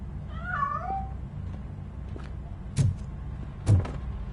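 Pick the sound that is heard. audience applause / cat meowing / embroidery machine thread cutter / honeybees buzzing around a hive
cat meowing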